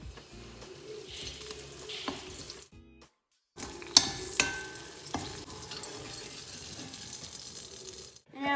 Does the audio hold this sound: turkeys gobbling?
no